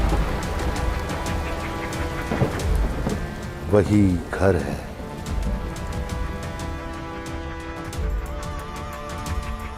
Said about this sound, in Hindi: वर्षा हो रही है।